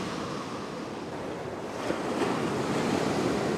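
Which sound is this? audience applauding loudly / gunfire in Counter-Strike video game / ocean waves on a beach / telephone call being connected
ocean waves on a beach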